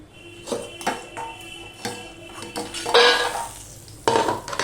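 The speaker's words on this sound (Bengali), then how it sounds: "সবার প্রথমে আমি বড়িগুলোকে ভেজে নেব" Bori (lentil dumplings) fry in hot oil with a soft, uneven sizzle, broken by repeated metallic clinks and scrapes of a utensil stirring the pan, including a sharper burst near the end.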